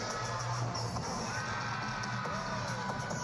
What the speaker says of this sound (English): Cheering her on